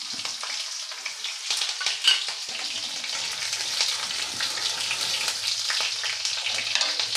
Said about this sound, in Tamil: கடுகு போடுறேன் கருகப்பில் போடுறேன் பச்சை மிளகாய் ஒன்று